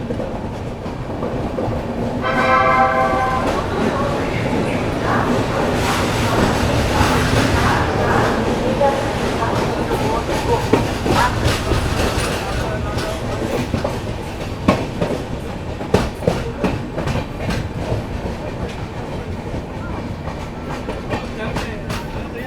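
The Vibhuti Express, running from Howrah to Prayagraj, rolls along with a loud, constant rumble and clickety-clack of wheels over the rail joints, heard from on board with a voice speaking now and then.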